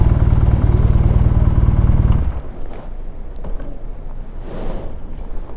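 A BMW R nineT motorcycle engine rumbles loudly at idle in neutral for a couple of seconds, then drops away, leaving quieter wind and background noise.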